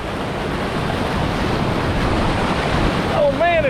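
Heavy water rushes at a waterfall where people are swimming, a loud, steady roar filling the whole clip with a brief high-pitched sound near the end.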